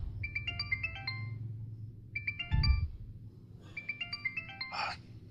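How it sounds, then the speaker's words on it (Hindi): A mobile phone ringtone plays a bright electronic melody in three repeated bursts, moderately loud, over a low background hum. "तुम्हारा फोन बज रहा है।"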